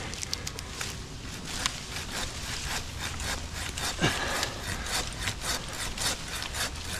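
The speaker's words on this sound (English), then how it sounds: "I might just have to handsaw it and try to flick it." Handsaw cutting through a limb high in a large tree during cable installation, a steady rasping stroke rhythm of moderate loudness running throughout, with faint crackles and rustles around it.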